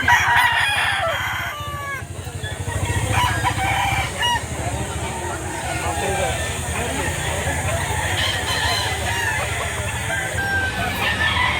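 Roosters crow repeatedly and hens cluck at a live chicken market in Padre Garcia, Batangas, with several birds calling near and far while people talk throughout.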